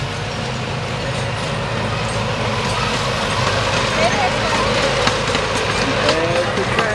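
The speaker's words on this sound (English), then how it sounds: "Here comes the train." A small amusement park train at Dutch Wonderland rolls by with a steady low rumble and clatter, heard amid continuous crowd chatter and background park noise.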